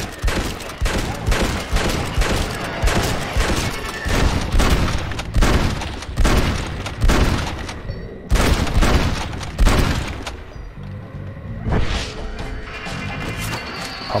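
Pump-action shotgun blasts in Red Dead Redemption: Undead Nightmare, a rapid string of loud, close booming shots with a short gap partway through, then a few more shots trailing off near the end.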